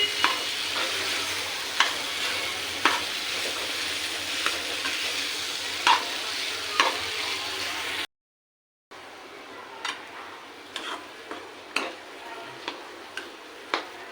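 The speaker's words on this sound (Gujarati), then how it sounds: "ચમચીની મદદથી તેને વજન દઈને દબાવી લઈએ એટલે બટેકાનો ચૂંડો થઈ જશે" A spoon presses and scrapes against a pan, mashing potatoes for a sandwich filling, in repeated sharp ticks over a steady sizzling background, with a brief drop to silence partway through.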